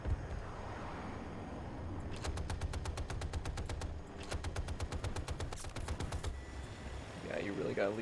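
Rapid-fire cannons in Battlefield 2042 rattle off in two fast bursts of evenly spaced sharp reports over a steady engine rumble, with a voice briefly heard at the end.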